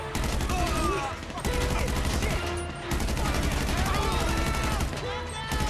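Gunfire in the video game GTA V comes as rapid bursts of shots over a continuous rumble of game noise, loud and sustained, with a player talking intermittently underneath.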